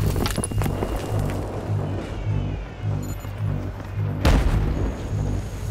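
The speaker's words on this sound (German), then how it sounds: "Panzer! Das ist ein scheiß Panzer!" A tank in Battlefield 3 rumbles with a low engine drone pulsing in a steady rhythm, broken by heavy booming blasts near the start and again toward the end.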